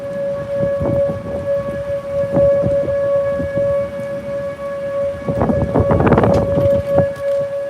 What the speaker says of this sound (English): there's the tornado sirens going off in Yukon. They're sounding again.